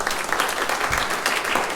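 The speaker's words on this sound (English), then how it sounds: "Give it up for the band." Audience applause for the band at a live concert in a synagogue: a dense, steady wash of many hands clapping, fairly close and sustained throughout, with no distinct voices.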